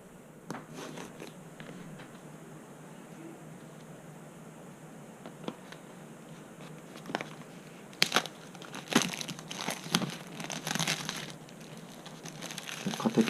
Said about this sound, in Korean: 겉에 비닐을 개봉을 하게 됩니다.